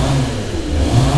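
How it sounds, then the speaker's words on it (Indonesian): A car engine revs at mid pitch in the background, a continuous, fairly loud drone that rises and falls slightly across the short stretch, with no voices over it. "bunyinya ada bunyi mesin"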